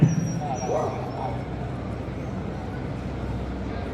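A dog yips and whimpers close by at a hunting fair, with people talking over it.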